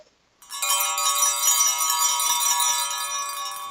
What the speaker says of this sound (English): We've got church bells for season 2 of Confirmation Bias. Super church bells.